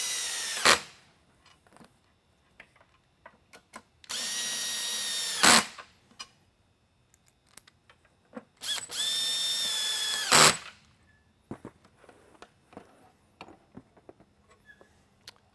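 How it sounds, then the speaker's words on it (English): A power drill drives end cap screws into the aluminum extrusion of a Mini Liberty lightbar, three short whirring bursts separated by pauses, close and loud, with small clicks of handling in between. "To hold everything back together, put the end cap screws in."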